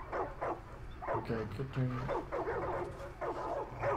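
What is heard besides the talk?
dogs barking in video game Far Cry 5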